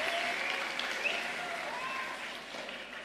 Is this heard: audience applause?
yes